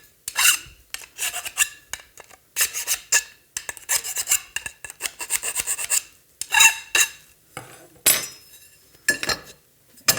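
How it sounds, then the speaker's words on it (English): A file rasps back and forth along the cut edges of a polycarbonate sheet, close and loud, in irregular bursts of short and longer strokes with brief pauses. "We got to file it, got to clean the edges off."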